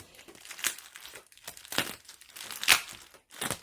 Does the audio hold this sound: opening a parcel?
yes